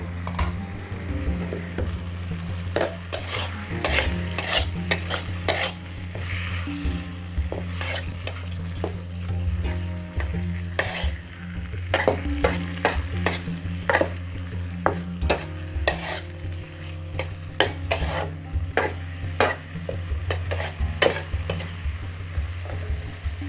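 Cubed carrots and green chilies stir-fried in a pan, a steady close sizzle broken by frequent sharp scrapes and clacks of a spatula against the metal, continuous with no talking.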